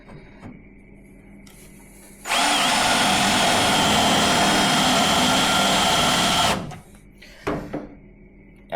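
Power drill with a dull bit boring during an engine bay modification on a Volvo S40, a loud steady whine for about four seconds, close up, between quieter handling sounds.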